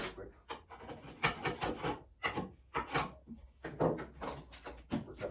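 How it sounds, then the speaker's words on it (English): Sandpaper rubbing along a tapered wooden chair leg in a woodshop, a series of close, rasping strokes in an uneven rhythm, with pauses between passes and some faint voice in the background. "There's a little bit that I might want to actually get with sandpaper."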